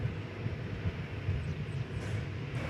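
Airbus A321neo airliner on approach at DFW Airport, a steady low engine rumble holding at moderate distance throughout, with no voices over it.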